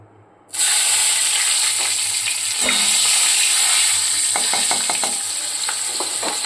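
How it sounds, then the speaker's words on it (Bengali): Slit green chillies drop into a pan of mustard hilsa, setting off a loud, steady sizzle that starts abruptly and continues close up, with a few clinks of stirring near the end. "দিয়ে দেবো দুটো চেরা কাঁচা লঙ্কা"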